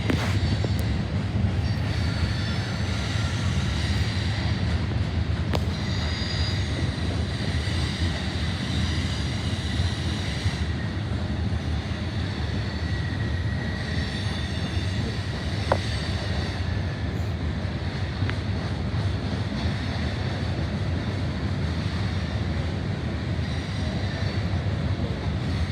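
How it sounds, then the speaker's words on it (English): A loaded coal train pulled by BNSF locomotives 8595 and 6329 rolls past at close range, a steady heavy rumble of wheels and cars with faint squeals and a few sharp clanks, no talking. "A loaded coal train."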